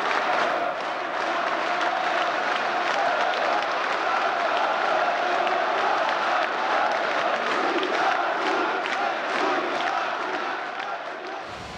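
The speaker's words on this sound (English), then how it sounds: "The crowd is unbelievably excited." A large, excited crowd at Georgia's declaration of independence from the Soviet Union roars and applauds continuously, with dense cheering and clapping that stays loud throughout and eases slightly at the end.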